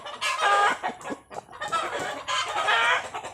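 A young rooster about six to seven months old, freshly caught and caged, clucks in close, loud bursts with short pauses between calls.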